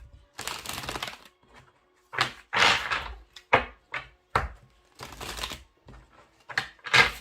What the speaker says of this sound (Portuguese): Eu vou baralhar o oráculo.